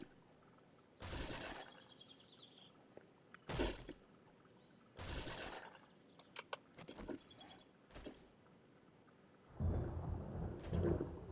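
Thunder rumbles and cracks repeatedly over a rainy outdoor scene in the survival game 7 Days to Die, several loud broad bursts a second or two apart against a quiet backdrop, ending in a longer rolling peal.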